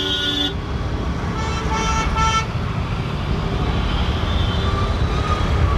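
Heavy road traffic in a flooded area of Delhi, heard from a motorbike: a steady engine and road rumble throughout, with a couple of short horn toots near the start, close and fairly loud.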